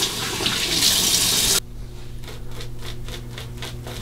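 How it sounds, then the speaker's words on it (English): Hot water splashes from a running sink tap during a straight razor shave, a steady rushing gush for about a second and a half, then cutting off to quieter rhythmic dripping and rubbing close by. "Just splash a little more hot water on."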